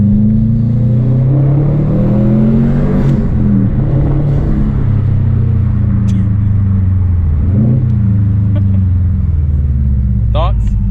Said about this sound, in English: driving my car.